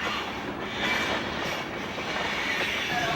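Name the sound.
train passing on rails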